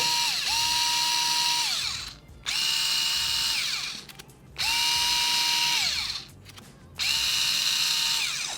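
Xiaomi Mijia cordless electric screwdriver running at a fixed 200 rpm in four separate bursts, each a steady whine that starts with a short rising spin-up. It is close and alone, with short pauses between the runs.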